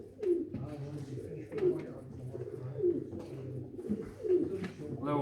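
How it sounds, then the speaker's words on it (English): Tall, showy Jacobin pigeons coo repeatedly at a club show, with deep rolling calls recurring every second or so at close range, while someone talks over them. "Three tall showy pigeons, these."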